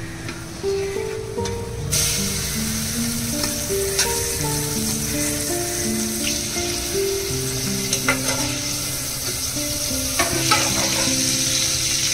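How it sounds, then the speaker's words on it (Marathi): Spices sizzling as dal is tempered in hot oil on a gas stove, with curry leaves and mustard seeds going in; a steady close frying hiss with scattered crackles and stirring clinks, no talk. "फोडणी देऊया आपण डाळीला"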